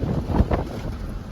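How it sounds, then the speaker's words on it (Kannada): Strong gusting wind buffets a vehicle during a storm, roaring in a loud, broad rush with a sharper gust near the start and no talking. "ಭಯಂಕರ ಸಿರ್ರೆ ಬದೈತೆ ಗಾಳಿ ಮಾತ್ರ"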